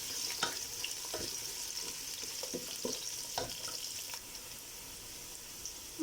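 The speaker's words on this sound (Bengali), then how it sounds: "এখন সব কিছু একসাথে ভেজে নেব" Khichuri ingredients fry together in a pan, giving a steady close sizzle broken by several sharp scraping clicks from stirring, easing off toward the end with no voices.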